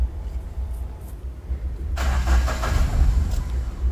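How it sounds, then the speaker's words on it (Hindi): Mahindra Bolero pickup with a starter fault: low engine rumble, then a loud, close starter whirr that churns for a couple of seconds without the engine catching, with no talking. "जैसे हम सेल्फ मारते हैं, गाड़ी जो है आधे सेल्फ के बाद सेल्फ छोड़ दे रहा है और स्टार्ट नहीं हो रहा है।"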